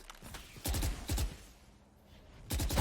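Desert Eagle pistol shots in Valorant ring out in distinct groups: a double shot, another pair a moment later, then more shots near the end, each sharp and punchy with ringing tails, with quiet game ambience in between.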